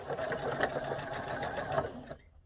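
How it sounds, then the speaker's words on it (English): A sewing machine stitches straight across a box pleat seam, running steadily and close for about two seconds before stopping abruptly. "I'm bringing this seam up to the center and stitching straight across."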